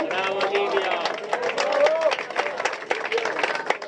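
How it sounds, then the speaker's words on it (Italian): Audience at a public commemoration applauding, a steady, fairly close crackle of many hands clapping, with voices talking and calling over it throughout. "come si sente dagli applausi"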